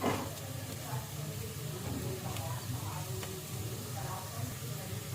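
Spices roasting in a hot pan for a dry potato and pea curry, a steady soft sizzle and crackle that continues evenly throughout, fairly quiet.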